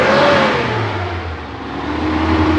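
A Suzuki Carry engine running on LPG gas revs loudly and close, its steady mid-pitched drone dipping slightly and climbing again throughout.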